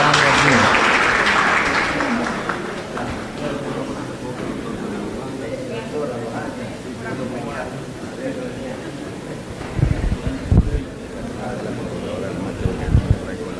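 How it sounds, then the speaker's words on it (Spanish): An audience gives a fading round of applause for a guest arriving at a sports history event, starting loud and thinning out, then voices talk over the room with a few thumps. "quiero un aplauso para él que hace su llegada aquí"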